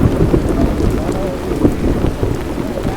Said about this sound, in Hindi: लकड़ी बहुत ज़रूरी है क्योंकि भाई बारिश बहुत तेज़ है